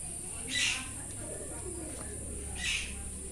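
Pet pigeons at a pigeon house give two soft cooing calls about two seconds apart, at moderate distance over a steady low background hum.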